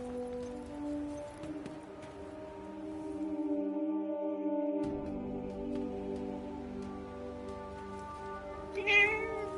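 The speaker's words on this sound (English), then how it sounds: "Hey, that cat." Cat in the video game Forspoken meowing in a drawn-out, tonal call, then a short sharp meow near the end, set against a steady humming background.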